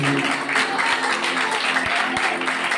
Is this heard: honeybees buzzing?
no